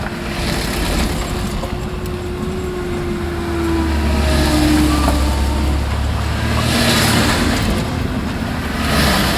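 Rush-hour traffic of a handful of cars rolls past on a road, a steady broad rumble with passing swells and no talking.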